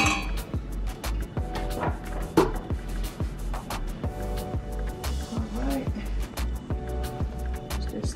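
Macaroni salad stirred in a bowl, with a steady run of clinks and scrapes of a spoon against the dish repeating roughly every half second, close and fairly loud, with muffled voices in the background.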